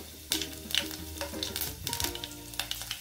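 Garlic cloves fry in hot oil with popped mustard seeds, making a close, crackling sizzle with scattered sharp pops and stirring scrapes, over faint background music.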